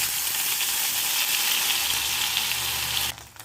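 Ground lentil paste hits hot oil with popped mustard seeds and urad dal for vada moor kulambu, giving a loud, close, continuous sizzle and hiss that cuts off sharply near the end.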